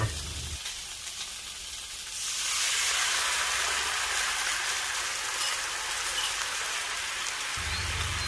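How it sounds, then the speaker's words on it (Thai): Prepared sauce hits a hot pan of fried garlic and breaks into a loud, steady sizzle after a quieter opening, the hiss holding strong to the end. "เสร็จแล้วก็ใส่น้ำซอสที่เตรียมไว้ลงในกระทะค่ะ"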